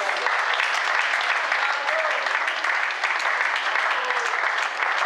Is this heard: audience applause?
yes